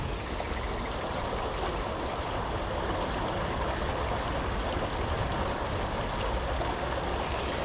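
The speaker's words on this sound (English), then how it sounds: "the water's definitely rushing pretty fast" A fast-flowing creek rushes steadily at close range, a dense, unbroken roar of water that stays even in level throughout with no voices.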